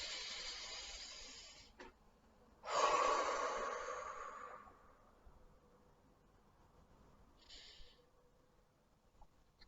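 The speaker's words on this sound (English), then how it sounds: "Deep breath." A deep breath is drawn in slowly and then released as a long, soft hiss of air, close and quiet against near silence, with a faint shorter breath afterward.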